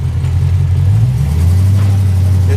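A 1929 Ford Model A roadster pickup fitted with an El Camino engine, Edelbrock manifold, carburetor and headers, idling loud and close with a low steady throb, then stepping up into a deeper, stronger rev.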